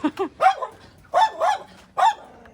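A dog barking and yipping nearby, a few quick bursts in a row with short pauses between.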